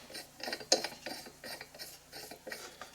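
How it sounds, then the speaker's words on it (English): A Stihl flywheel puller is screwed by hand onto the crankshaft of a two-stroke leaf blower, giving faint, close ratcheting clicks and light metallic rubbing in short bursts. "I've got this Sthl puller here. And there's the part number if you want to get this puller. You just simply screw it onto the crankshaft."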